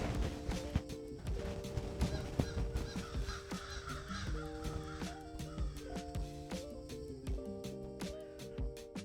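Several crows caw repeatedly in harsh, overlapping calls, fairly close and continuous, with some clattering noises underneath, in urban Berlin.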